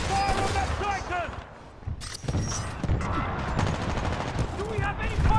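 Titanfall 2 battle gunfire, with dense automatic bursts and mechanical clanks continuing close and loud while voices shout over the fighting.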